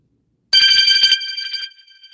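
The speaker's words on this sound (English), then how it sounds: "my phone rang" Sudden bright electronic phone ringtone bursting out of silence, a loud trilling tone that rings for about a second, then softens and fades away.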